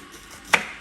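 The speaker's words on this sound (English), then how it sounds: "I'm just in the process of chopping everything up into" A single crisp knife stroke through vegetables for a thick vegetable soup lands on a cutting board midway through an otherwise quiet moment, close and sharp.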